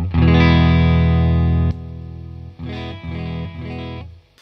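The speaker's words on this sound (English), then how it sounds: "So I'm going to start off with the Blues Breaker." Electric guitar through a Marshall Blues Breaker overdrive pedal: a loud, sustained driven chord rings for nearly two seconds, then three shorter, quieter strummed chords follow before fading.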